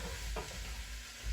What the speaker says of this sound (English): the moisture in the veg just lets them simmer away